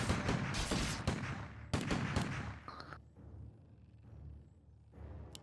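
Rifle gunfire from Night Elf units in the strategy game Warcraft III rattles in dense bursts for about three seconds, then trails off into quieter scattered battle sounds.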